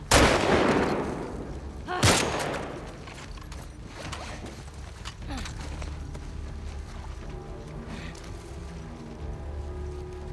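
Video game gunfire, with a loud blast at the start and another around two seconds, followed by scattered quieter shots and rumbling game sounds.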